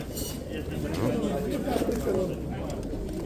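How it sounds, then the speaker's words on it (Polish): Pigeons coo at a pigeon market in Przytyk, Poland, a low soft cooing running under nearby people talking, with steady crowd murmur throughout. "I to są gołębie Radka"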